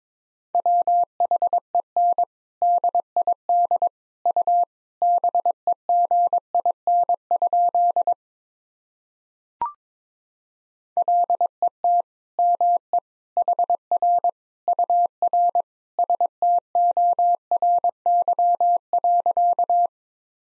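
Morse code sentence sent at 22 words per minute as a steady mid-pitched tone keyed in rapid dots and dashes, two long runs split by a short pause with a faint click, clear and alone.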